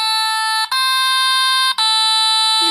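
A toy bowling machine built from Lego beeps in a loud, steady electronic tone, broken by two brief gaps, like a continuous alarm buzzer sounding close by.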